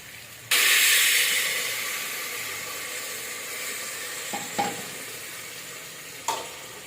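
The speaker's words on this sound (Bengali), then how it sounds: "জল দিয়ে একটু নাড়াচাড়া করে দেবো" Potatoes frying in a pan for Bengali aloo dum burst into loud steamy sizzling as water goes in, the hiss slowly easing while a few sharp scraping stirs knock against the pan.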